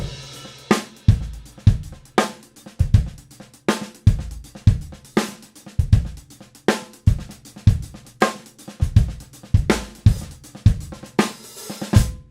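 Full halftime shuffle on a drum kit: busy, driving groove of snare and kick accents with ghost notes and shuffled hi-hat filling every gap, loud and close throughout, with no talking.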